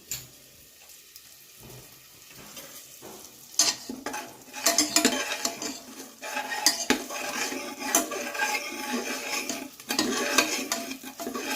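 Masala sizzling and frying in a pan for egg biryani, with a spoon repeatedly scraping and clattering against the metal; quiet at first, then steady close stirring and sizzle.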